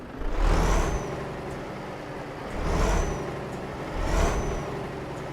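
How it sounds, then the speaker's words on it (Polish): Volvo FH truck engine idling in Euro Truck Simulator 2, a steady low rumble with three loud hissing air-brake releases spaced about two seconds apart, heard alone and close. "Dźwięk silniczka"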